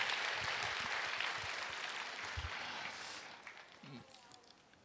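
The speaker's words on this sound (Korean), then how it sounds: "감사의 마음으로 다시 한번 박수 드리겠습니다" A church congregation applauds during a Sunday service, a dense, even wash of many hands clapping that fades gradually over several seconds, and a voice briefly speaks near the end.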